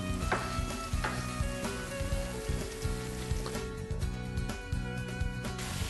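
A breaded pork chop fries in a pan with a loud, dense, continuous sizzle and crackle close by. The hiss stays steady for the whole stretch, with no talking.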